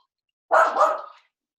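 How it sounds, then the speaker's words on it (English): A pet dog gives one short, close bark that stands alone against silence. "My dog."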